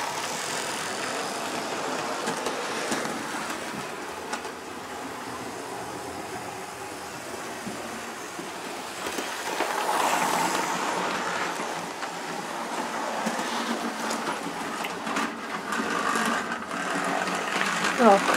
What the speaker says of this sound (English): My class 52 Western Diesel with absolutely no identity or nameplates